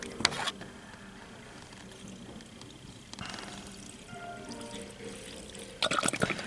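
Fuel is poured into the carburetor bowls of a 1960 Chrysler 300F in short trickling pours, faint and close, with quieter pauses between them.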